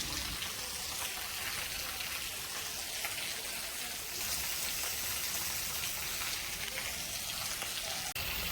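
Heavy monsoon rain in India, a constant broad hiss of downpour spattering on surfaces, steady and fairly quiet, with no talk over it.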